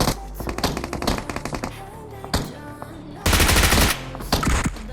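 Loud bursts of rapid automatic gunfire in BGMI (PUBG Mobile), rattling in quick runs with pauses between them and some single shots.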